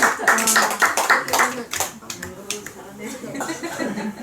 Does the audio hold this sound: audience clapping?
yes